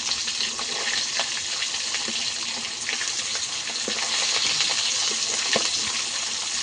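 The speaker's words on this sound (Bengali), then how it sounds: "এই যে ইলিশ মাছটাকে ভালো করে ভেজে নিতে হবে।" Hilsa fish sizzles as it fries in oil, a steady bright crackling hiss with scattered pops and light scraping from being turned, continuous and close with no talk.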